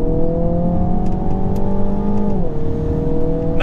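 A 2021 Mini Countryman JCW accelerating, its engine note rising steadily, then dropping as it shifts gear, loud and close with a constant steady drone.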